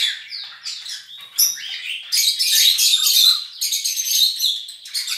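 A pair of caged reverso-mutation birds, a grey male and a cinnamon female, chirp and trill in quick bright bursts up close, with short gaps between the phrases.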